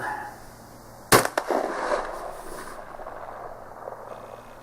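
An Optima 12 gauge shotgun fires a reloaded lead-shot shell: one loud, sharp blast, then a quick second crack and a fading echo tail, with no talk.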